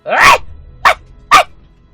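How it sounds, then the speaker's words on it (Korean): A dog accompanying a hunter on a mountain barks loudly and close by: one longer bark followed by two short sharp barks, spaced apart with quiet between them. "강아지가 그날따라 너무 심하게 짖어대는 거야"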